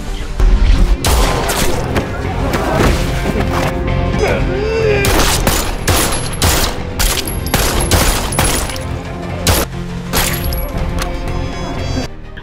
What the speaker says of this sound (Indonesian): Kuei-lin menembakkan pistolnya ke arah salah satu bos mafia, berkali-kali peluru mengenainya